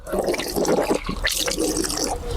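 Tap water runs and splashes while someone washes their face outdoors at a zoo, a close, continuous gurgling splash with uneven surges over about two seconds.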